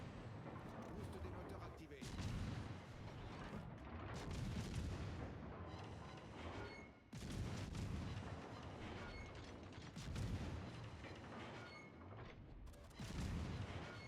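Tank cannon fire in a tank combat video game, with several heavy booming shots and mechanical clanks and creaks from the vehicles, loud, repeating every few seconds against a constant rumbling engine drone.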